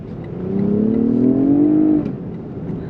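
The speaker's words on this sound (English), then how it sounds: "V6 that sounds really amazing. Naturally aspirated" A naturally aspirated V6 in a 2019 Lexus ES 350 F Sport revs up, rising smoothly for about a second and a half before easing off, loud and close with no talk.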